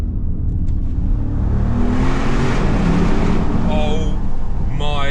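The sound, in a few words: Audi RS Q8 Performance engine sound in tunnel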